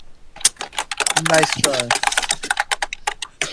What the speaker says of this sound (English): That's a mechanical keyboard if I ever heard of one